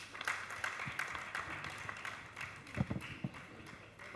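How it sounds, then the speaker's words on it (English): Audience at a core banking summit panel discussion in Lagos, Nigeria, clapping for the panelists, a moderately loud, dense patter of many hands that carries steadily for a few seconds. "Dear panelists, thank you very much. Very, very insightful. Round of applause."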